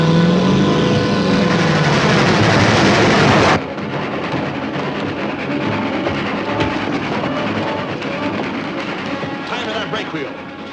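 A train rolling along the tracks toward a through passenger train, a dense, loud rumbling roar that drops abruptly in level partway through and continues steadily.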